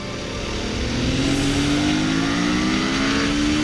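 Superbike and supermoto motorcycles street racing at full throttle, engines held near their limit; a loud, steady high-revving drone with a rising pitch sweep, close and continuous with no talk.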